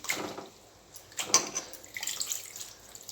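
Amaranth greens, green chillies and a tomato are washed in water by hand, with close splashing, dripping and swishing in irregular bursts and no talking.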